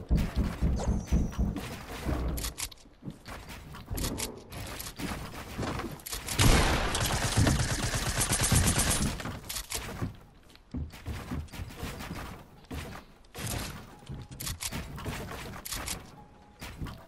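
Dense video game gunfire from a shootout, with rapid bursts and crashing impacts filling the mix, building to a sustained loud barrage in the middle before breaking into choppier shots, with faint voices mixed in.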